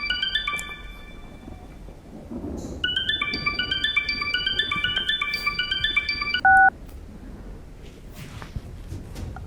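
Touch-tone phone keypad beeps in two quick bursts of dialing, then a short ring tone, heard fairly close over a low background rumble with no talking.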